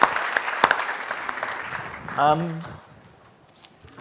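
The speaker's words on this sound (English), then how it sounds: "a round of applause" Applause from an audience at a talk on the refugee crisis: a dense patter of clapping that thins and fades over two seconds before a voice speaks briefly.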